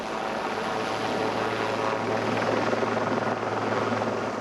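A helicopter in flight gives a loud, close, continuous drone of rotor and engine, holding steady with a faint rhythmic chop throughout and no voices.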